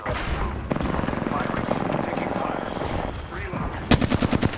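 Rapid automatic gunfire in the battle royale shooter Apex Legends, loud and close, in long sustained bursts followed by a few heavy separate shots, with faint voices under it.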